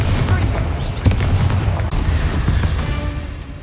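Fire blast spells and explosions cast in Hogwarts Legacy, a PS5 video game, booming in quick succession over dense, continuous game noise and combat rumble, loud and close throughout.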